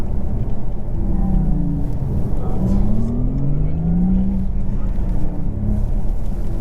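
A Porsche Taycan Turbo S Cross Turismo electric car accelerating on a rough road, heard from inside as a continuous loud low rumble of road and motor noise with a rising whine, while people talk over it.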